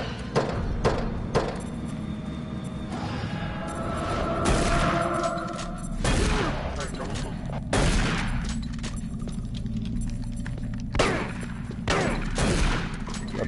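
Gunfire in Doom 3, a run of sharp, loud shots and bursts with heavy thumps, spaced irregularly across the stretch and dominating the mix without speech.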